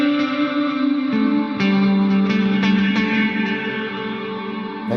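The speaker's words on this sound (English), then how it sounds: "Let's turn that reverb down a bit." Clean electric guitar chords ring through a Line 6 DL4 MKII pedal with the reverb set lower, each strum still trailing a noticeable wash, loud and close with no voices.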